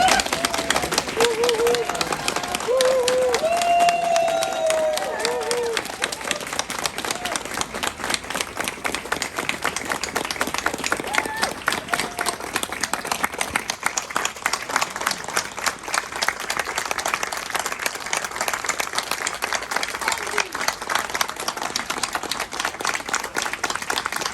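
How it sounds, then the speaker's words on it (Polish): An audience claps and applauds for an artist at a Wrocław tram event, a dense, steady patter of many hands lasting throughout, with a brief voice audible near the start. "jeśli możemy teraz brawa dla Romana, bardzo proszę"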